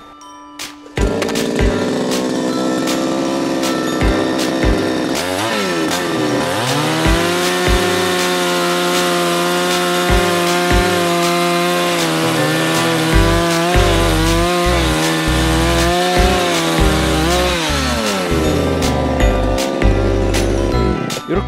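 A petrol chainsaw runs loud and close, its engine climbing into a high-pitched whine as the chain bites into wood and dropping back between cuts, with sustained sawing over most of the stretch.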